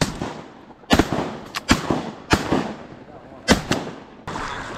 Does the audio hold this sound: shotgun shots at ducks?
yes